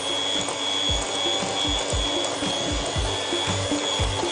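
Electric mixer whipping ghee with powdered sugar, a steady broadband motor whir with a constant high whine, running continuously and close with rhythmic low thumps of the beaters against the bowl.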